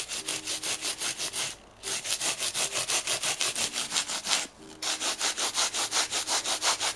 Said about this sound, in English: Light pressure on the rasp because you're going to need to reduce it.